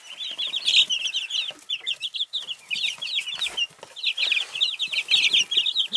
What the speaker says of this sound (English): just a little update on the chickens